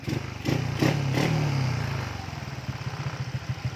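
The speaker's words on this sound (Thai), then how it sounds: "เดี๋ยวเรามาดูการขับขี่กัน ขับขี่บนท้องถนนจริงนะครับ" A motorcycle with a freshly tuned carburetor ridden on a real road. The engine swells in a rev, then settles into a steady, throbbing run at moderate distance, with no talking.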